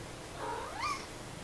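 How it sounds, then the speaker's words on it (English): A cat gives a short, faint meow with a high, kitten-like pitch, rising then falling, heard close by with no talk over it. "That's like a kitten noise, isn't it?"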